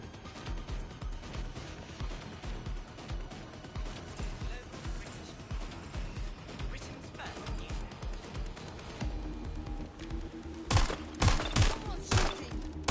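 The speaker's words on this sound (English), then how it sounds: "Someone's shooting." Gunfire in Watch Dogs Legion, bursts of rapid shots under game noise and talk, with loud sharp volleys near the end.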